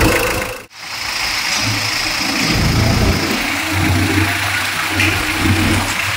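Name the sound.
diesel engine running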